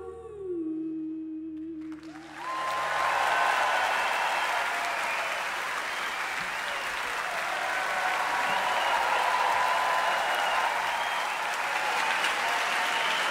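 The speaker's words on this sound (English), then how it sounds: "Applause for tonight's performers," Concert audience at the Royal Albert Hall during the BBC Proms breaking into loud, sustained applause that swells in and keeps up as dense, even clapping, after a brief sung melody at the start.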